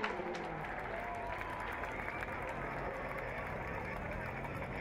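A crowd at a Formula Drift event in Atlanta cheers and claps as a dense, steady roar of noise at moderate distance, with a low rumble underneath.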